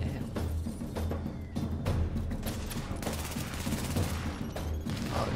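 Shotgun blasts in the video game The Division, a dense run of sharp, repeated shots mixed with other gunfire and busy game noise, with some speech underneath.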